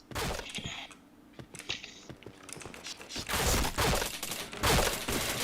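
Gunfire in a shooting video game: sharp shots and rapid bursts crackle in uneven clusters, loud and close, with mechanical clacks between them and no voices.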